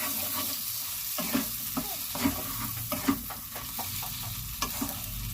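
Shrimp fry with spices in a pan for biryani, a steady close sizzle broken by repeated scrapes and knocks of a spoon stirring the pan. No one speaks.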